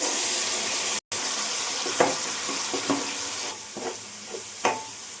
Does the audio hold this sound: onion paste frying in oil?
yes